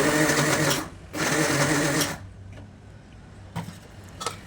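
A mixer grinder labours on a clumped mix of peanuts and black sesame, giving two loud, strained whirring bursts of about a second each. A quieter stretch with faint knocks follows.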